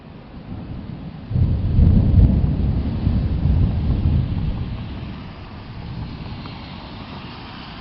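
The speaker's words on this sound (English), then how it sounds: "It's raining. It's gonna downpour." A heavy rainstorm turns into a downpour with a deep, loud thunder roll near the start. The roll swells and rumbles for several seconds, then fades back to steady hissing rain.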